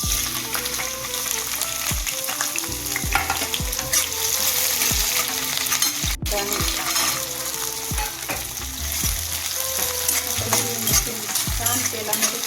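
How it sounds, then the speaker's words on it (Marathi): Green chilies and peanuts fry in hot oil for sabudana khichdi, giving a steady dense sizzle broken by repeated scraping stirs of a spatula in the pan, close and without talk. "छान तेलामध्ये परतली गेली पाहिजे आणि शेंगदाणे पण त्याचे लालसर झाले पाहिजे"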